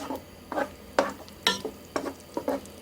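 Butter melting in a large pan as the base for a winter soup, with soft scraping and stirring bursts spaced about every half second, close and moderately loud over a faint background hiss.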